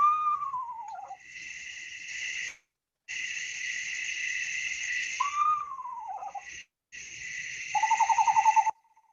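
Repeated owl calls from a Maine raptor, each a descending whinny-like whistle followed by a sustained wavering trill, three phrases separated by short silences, clear and close without talk.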